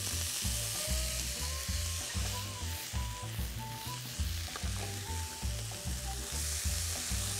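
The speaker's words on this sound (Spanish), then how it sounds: "Y con mucho cuidado agregamos los nopales." Nopales sizzle in hot oil in a frying pan, a loud, steady crackling hiss that runs throughout, with soft music playing underneath.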